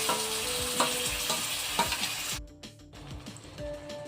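Mashed banana fries in ghee in a pan for banana modak, with a loud steady sizzle and rhythmic spoon scrapes that drop to a quieter hiss partway through.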